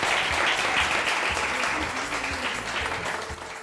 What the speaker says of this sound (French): Des applaudissements pour vous